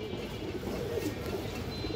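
A male pigeon with a big head and an all-black tail coos low and soft, close by, against a steady background hum with no talking.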